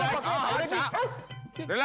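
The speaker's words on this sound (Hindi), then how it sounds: "ये मुझ पर क्यों भौंक रहा है?" A dog barks in a quick series of yips and woofs, loud and near, overlapping with a man's excited speech throughout a short comedic exchange.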